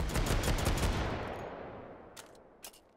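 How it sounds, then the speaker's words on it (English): A Desert Eagle pistol test-fired in the VR game Hot Dogs, Horseshoes & Hand Grenades: a loud blast with a long rumbling decay, followed by a few faint clicks and knocks. "do a little test firing"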